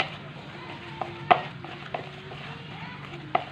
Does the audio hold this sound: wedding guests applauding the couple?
no